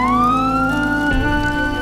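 A loud, close fire engine siren wails in a rising, sustained tone as the fire brigade arrives at a house fire, with a brief low rumble partway through.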